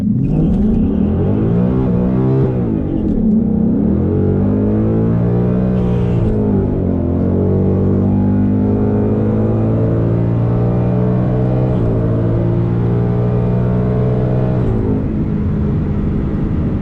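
A 2019 Ford Mustang GT with new modifications accelerates hard down a drag strip, its engine rising through several loud gear pulls and shifts in a continuous, close, steady roar with no talking.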